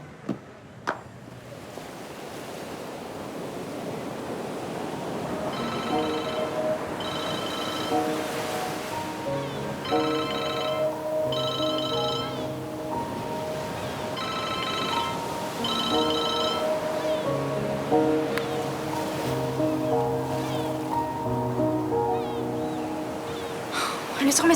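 A telephone rings in repeated bursts and goes unanswered until the call drops to voicemail. The rings sound at a moderate level over a steady tonal background bed.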